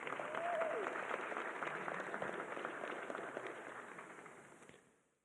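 An audience claps steadily as one dense wash of applause that fades out near the end, heard from a distance in a hall.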